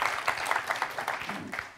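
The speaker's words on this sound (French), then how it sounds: "on peut applaudir Gilles" A quiz show audience applauds a contestant on Questions pour un champion, a soft, fairly even patter of claps that fades away by the close.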